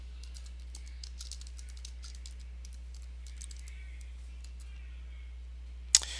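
Quick clattering keystrokes on a computer keyboard enter Linux commands to install a Realtek rtl8812au wifi driver, coming in irregular bursts over a steady low hum and ending in a sharp louder click.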